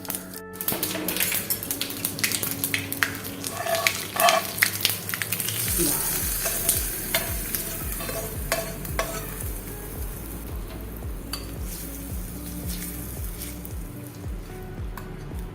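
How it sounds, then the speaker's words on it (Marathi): Mustard seeds and curry leaves sizzle and crackle steadily in hot oil for tempering a chutney, a loud, continuous close frying hiss with scattered pops throughout. "मोहरी तळतळायला लागली, आपण ही चटणीवर घालूया."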